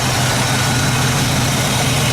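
A 1968 Chevy truck engine with freshly flattened exhaust manifolds idles steadily, a loud, close, even low rumble with no knocking or tapping.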